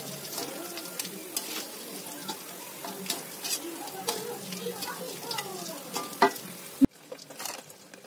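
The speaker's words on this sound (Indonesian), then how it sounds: "Ya, ini udah penggorengan yang terakhir." Catfish (ikan lele) frying in oil in a pan, a soft continuous sizzle with scattered crackles and pops, fairly quiet and close, with a sharp clatter near the end.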